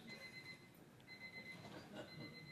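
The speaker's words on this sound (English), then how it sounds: "My alarm." An electronic alarm beeps in short repeated tones, a pair of steady pitched bursts that stop and start again, fairly quiet over a low background murmur.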